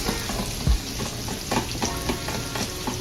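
Vegetables sauté in a pan with a steady broadband sizzle, broken by occasional soft stirring scrapes and one low thump near the start. No one speaks.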